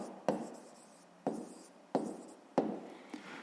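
A pen writes an answer on paper in a quiet room, making four or five short scratchy strokes with small pauses between them.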